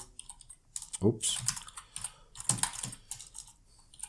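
Soft clicking of a computer keyboard in irregular bursts, quick keystrokes with short pauses, fairly quiet and close.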